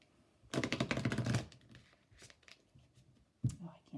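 A brisk riffle of tarot cards shuffled close by, a rapid burst of flapping clicks, followed by a quieter pause and a few soft handling sounds.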